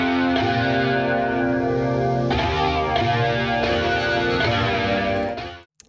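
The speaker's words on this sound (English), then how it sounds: "most of these sounds that lives in here have been heavily processed through distortion pedals and overdrives to give a very mangled," EastWest Lo-Fi Toolkit sample library sounds pushed through distortion pedals and overdrives: a loud, dense, gritty sustained harmonic texture that shifts chords several times before cutting off abruptly near the end.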